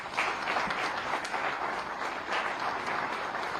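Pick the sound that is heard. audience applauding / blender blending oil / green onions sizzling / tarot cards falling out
audience applauding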